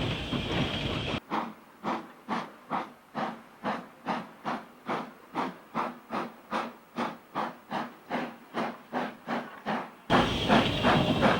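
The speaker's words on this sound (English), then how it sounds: "It takes a bit of effort to get this heavy train moving" Heavy steam locomotive pulling away downhill toward Vickers Hall Lane crossing on the Astley Green and Walkden Railway, with a steady rhythm of loud, evenly spaced exhaust chuffs, bracketed by hissing steam before and after.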